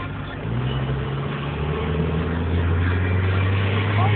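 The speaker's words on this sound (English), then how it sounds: "the sound of our undercarriage on Oldham's roads" Car undercarriage rumbling over Oldham's roads, heard from inside as a steady low road roar with engine hum that rises slightly after a moment and holds, no talking.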